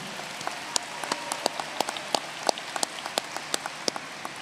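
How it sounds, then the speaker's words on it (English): Sparse, scattered clapping rings out at a new student convocation in honor of the vice presidents, distinct individual claps sounding over a soft hall background. "Please join me in a round of applause for appreciation."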